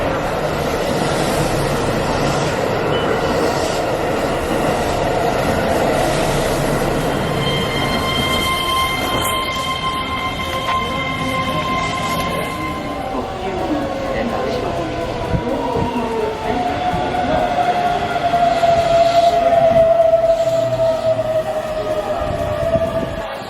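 Steady rumble of a moving Osaka subway train heard from inside a carriage, with a rising whine and squeal of wheels as it runs along the track.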